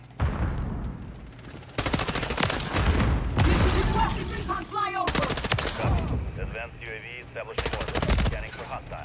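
Rapid bursts of M4A1 automatic gunfire in Call of Duty MW3, loud and close, arriving in several long volleys with brief pauses and game effects between them.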